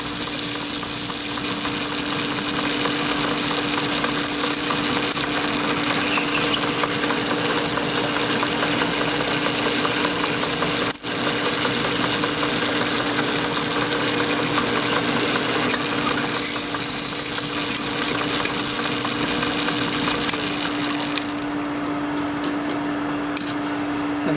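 A simple valve guide drilling and reaming machine runs steadily on an Olds cylinder head, giving a constant loud mechanical hum with a brief sharp tick partway through and no speech.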